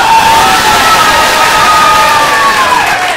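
A comedy game show audience cheers and shouts loudly and steadily, a dense crowd roar with whoops holding at full volume for about three seconds, no clapping prominent.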